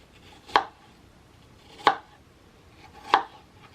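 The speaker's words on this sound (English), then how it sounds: "now I'm going to dice them up" A kitchen knife dices sliced apples for a pie, making three evenly spaced, crisp chops on a cutting board, close and clear against near silence.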